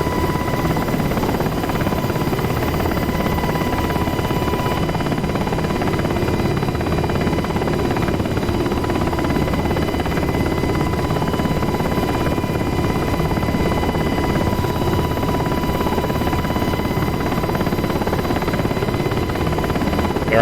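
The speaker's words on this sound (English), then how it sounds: "we're going to get a little lower over the runway here, so we can make it an official hover taxi" A UH-60 Black Hawk helicopter in DCS World hovers low over a runway, its steady rotor and turbine drone continuous and loud throughout, with a constant whine on top and no other sounds.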